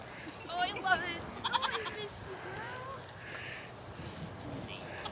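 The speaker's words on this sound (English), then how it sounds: "It looks like a lot of goats, Crystal." Dairy show goats bleat in a cluster of short, wavering calls near the start, with quieter animal sounds and people talking softly in the background of a farm setting.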